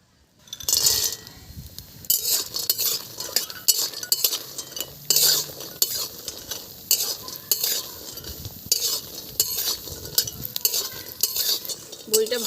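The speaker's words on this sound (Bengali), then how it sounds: "তাই আমি আগে বড়িটা ভেজে নিচ্ছি।" Lentil bori fry in mustard oil in a wok, with a steady sizzle under a busy scrape-and-clink of a stirring utensil. The sound stays close and continuous for the whole stretch.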